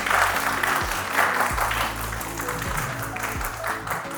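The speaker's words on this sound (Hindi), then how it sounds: "तालियां।" An open-mic audience claps for the host on a show's first episode, a sustained round of applause layered over music, fairly loud, with little talk.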